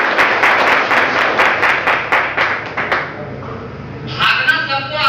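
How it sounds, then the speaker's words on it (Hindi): A group at a leadership development program claps loudly for the participants, brisk and close for about three seconds before tapering off as a voice speaks. "इन लोगों के लिए जोरदार तालियां"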